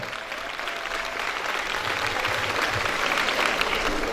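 An audience at a university graduation ceremony claps steadily for a few seconds, a dense, even wash of applause that swells slightly toward the end.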